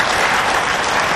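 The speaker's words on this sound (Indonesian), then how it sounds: "Jadi tepuk tangan untuk rekan-rekan sekalian." A crowd at a meeting with volunteers gives loud, dense, continuous applause that fills the whole moment without letting up.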